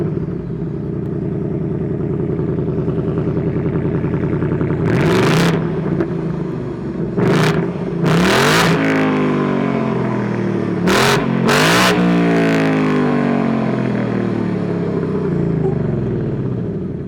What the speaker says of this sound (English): So let's go ahead and start up that engine.